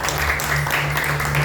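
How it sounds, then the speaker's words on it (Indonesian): Applause and cheering from a church congregation at a Sunday service, a dense steady wash of clapping filling the room with a continuous low hum beneath it. "Mari kita berikan dulu sorak-sorak buat Tuhan kita."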